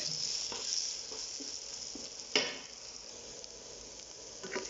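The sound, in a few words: golden sultanas popping while frying in oil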